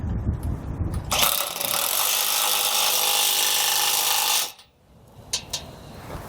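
A power tool runs in one sustained loud burst of about three seconds while tightening nuts on a trailer hitch cargo carrier mounted to an RV bumper hitch receiver, followed by brief metallic clicks.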